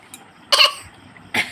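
A person coughs in two sharp bursts, with a faint cough or throat clear just before, while suffering from an itchy, scratchy throat. The bursts are close and loud, separated by a short quiet pause, and no one speaks.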